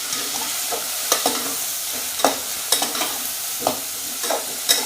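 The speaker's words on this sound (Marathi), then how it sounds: "छानपैकी वांगे तळून घालायचे" Stuffed eggplants fry in hot oil in a pan, a steady loud sizzle broken by repeated scraping stirs and clinks, with no voices.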